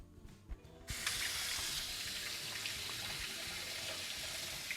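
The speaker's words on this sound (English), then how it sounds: "Just grab just some hot tap water" Hot water gushes from a kitchen tap in a steady hissing stream, starting abruptly after a second of quiet handling noises and continuing close and even.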